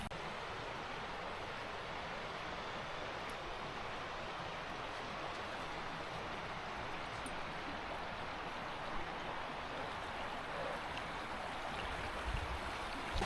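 Steady rushing water roars continuously throughout, broad and unbroken like a waterfall heard from nearby, with no voices.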